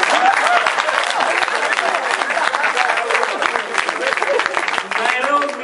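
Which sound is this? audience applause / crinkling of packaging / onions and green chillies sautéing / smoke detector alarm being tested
audience applause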